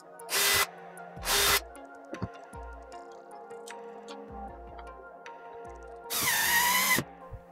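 A power drill boring mounting holes for Holis-25 horizontal blinds on a window: three short, loud whirring bursts, the last one longer, separated by quiet clicks and small handling knocks.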